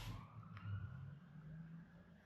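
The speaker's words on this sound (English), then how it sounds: "And that is an ambulance." A siren from an ambulance or police car passing on a main road outside a home, its tone sliding steadily, faint and distant under a low steady hum.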